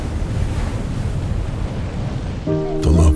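Surf rolls in continuously from the open ocean, a dense roaring wash with buffeting wind, before a low tonal sound enters near the end.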